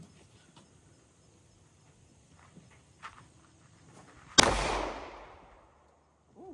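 A single sharp handgun shot from a Ruger RXM firing a full metal jacket round at a pumpkin outdoors, loud with a decaying echo tail, after quiet background with faint footsteps.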